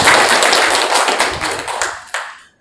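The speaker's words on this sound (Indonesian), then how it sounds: "Tepuk tangan buat hari ini." An audience at a school parenting session breaks into a short, dense burst of clapping that tapers off within a few seconds.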